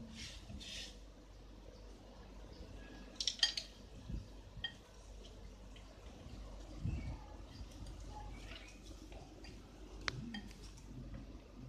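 Spoon mixing fenugreek powder and spices in a bowl for mango pickle, heard as faint, scattered clinks and soft scraping against a quiet background, with a few sharper taps.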